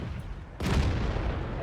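A tank cannon fires once in World of Tanks, a sudden loud boom that rings into a sustained rumbling tail under a low background of game ambience.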